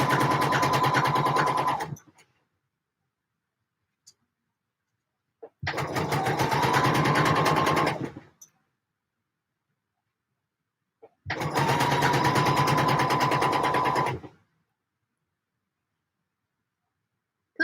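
A sewing machine stitches in three loud, even bursts of about three seconds each, separated by quiet pauses with only faint clicks.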